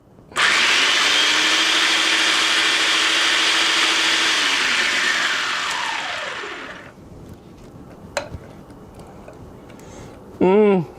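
A food processor whirs loudly and steadily as it processes garlic butter, then winds down with a falling tone and stops, followed by quieter clicks and a short final buzz.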